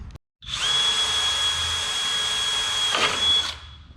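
A power drill with a worn, junk bit whines loudly and steadily for about three seconds while working on a small vehicle project, with a short bump in the pitch before it spins down.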